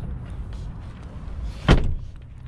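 An Audi A4 rear seat is folded down, giving one sharp thump near the middle after quiet handling and rustling inside the car, close and alone.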